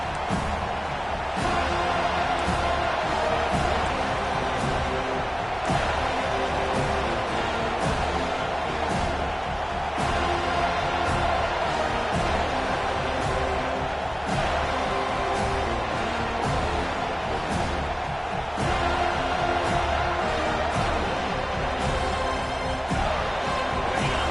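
A home crowd at a football game roars in a continuous, dense wash of noise as the defense tries to get off the field on third down, loud and sustained throughout.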